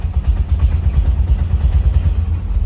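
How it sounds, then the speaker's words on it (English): Corvette Z06 engine idling rough and slightly rich while still warming up, a steady low, loud rumble with an uneven, lumpy pulse and faint clatter throughout, no voices. "The car just right now is not sounding like it's idling properly, so it's a little rich"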